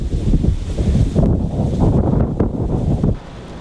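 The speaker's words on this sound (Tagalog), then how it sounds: "Ang mga puno halos tumabingi sa lakas ng hangin." Strong wind roars and buffets the microphone in loud gusts, then drops off abruptly near the end.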